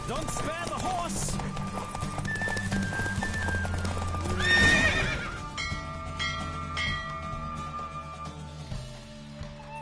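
A horse in The Witcher game gallops amid rhythmic hoofbeats and a whinny, mixed with game music and sound effects, loud throughout and swelling near the middle.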